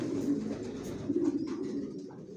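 Janssen racing pigeons coo softly in low, rolling bursts, a couple of murmuring calls close by with a quiet background.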